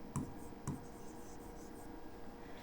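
Pen writing on paper during a maths lesson, two short scratchy strokes near the start, then faint background hiss.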